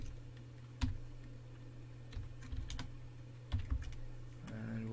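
Keystrokes on a computer keyboard while a Cisco router is configured from a console, a few scattered clicks and taps over a steady low hum, fairly quiet and close.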